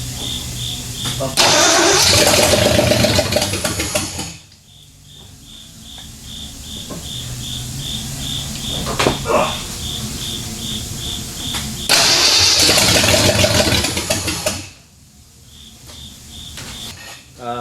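A 1979 AMC Spirit AMX with a 304 V8 cranking over and firing up for the first time after a project rebuild, two loud bursts of starter and engine roar between rougher idling, with insects chirping steadily outside.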